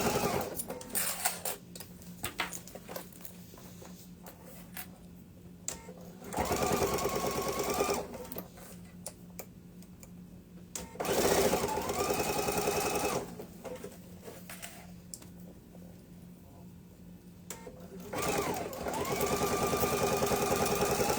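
A sewing machine stitches binding on a backpack in three steady bursts, each a few seconds long, with quiet handling between them and no talk.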